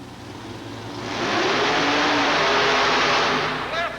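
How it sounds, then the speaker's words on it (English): A nitrous-injected big block Chevrolet monster truck roars down a racing track, its engine swelling loud and sustained before easing off near the end. "This nitrous oxide injected big block Chevrolet machine is plenty strong."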